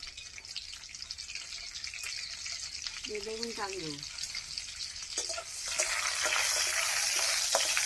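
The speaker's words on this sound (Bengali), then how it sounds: "ফোড়নটা একটু নাড়াচাড়া করে ভেজে নেবে।" Panch phoron spices fry in oil in a pan with a steady crackling sizzle that grows louder partway through, while a voice briefly speaks over it.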